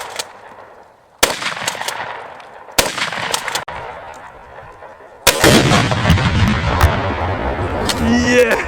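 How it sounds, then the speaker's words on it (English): A tannerite target set off by birdshot bursts in several sharp blasts, the last one loudest, followed by a long rumbling roar with wind buffeting and people exclaiming. "it set the tannerite off, which just created this massive explosion with the mushroom cloud"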